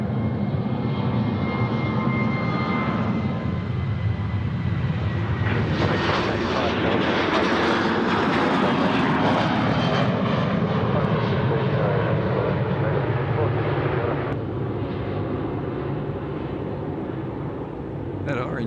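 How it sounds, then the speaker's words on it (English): Regional Express airliner departing Sydney Airport, a loud engine roar that builds and swells midway, then fades slowly, with people talking underneath. "Here we go, the last departure on today's live show, the Regional Express 738."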